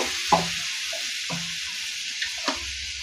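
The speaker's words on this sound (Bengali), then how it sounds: "আমি এটা আছে এর মধ্যে জল দিয়ে দিচ্ছি" Gourd kofta gravy simmering in a pan after water is added, a steady soft sizzle with a few light stirring clinks and scrapes, close and fairly quiet with no talk.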